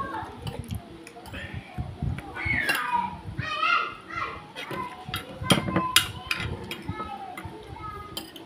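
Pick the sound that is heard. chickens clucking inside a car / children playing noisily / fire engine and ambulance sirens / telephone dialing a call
children playing noisily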